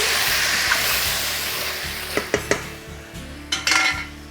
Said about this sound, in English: Give them a good whisk.